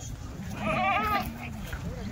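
Kathiawari dairy goats bleating in a farm setting, a short wavering call rising over a constant low rumble with a voice faintly beneath.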